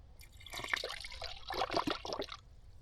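Coolant pours into the cooling system of a Ford 5.4L 3V V8 with a close, gurgling, splashing liquid sound lasting a couple of seconds.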